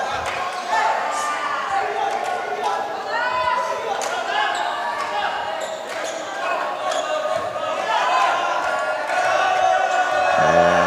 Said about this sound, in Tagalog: And hearing it from the pro Valenzuela crowd